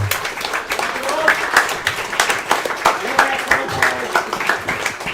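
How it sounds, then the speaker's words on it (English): A gathering at a boys' soccer team event claps for the coaches, a fairly loud, uneven patter of applause with voices talking and calling out over it. "Clap up the coaches."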